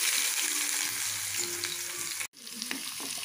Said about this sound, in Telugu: ఇలా స్టవ్ ఆన్ చేసుకొని మనం ఆవాలు జీలకర్ర యాడ్ చేసుకోవాలి. అవి చిటపల్ల ఆడుతున్నాయి.